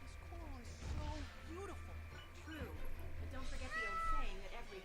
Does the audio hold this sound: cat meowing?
yes